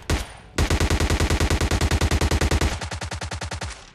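Rapid automatic gunfire in the PUBG Lite video game, a loud, close, evenly spaced burst of shots that runs without pause before a slightly softer, continuing stream of rounds.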